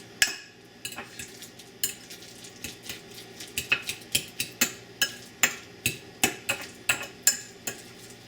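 A utensil repeatedly mashes and stirs guacamole ingredients in a bowl, producing a steady series of soft wet knocks and clicks, close and alone, about two to three per second.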